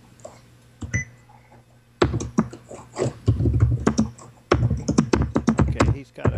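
Computer keyboard typing in quick irregular bursts of sharp key clicks, close and fairly loud, with a short pause before a denser run of keystrokes.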